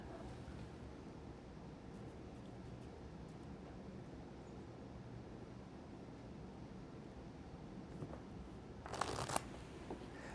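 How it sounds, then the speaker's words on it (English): A deck of playing cards is shuffled at close range, a steady soft riffling hiss that carries on for several seconds, then a brief louder burst of card flutter and snapping near the end, with no voices. "Shuffle them again."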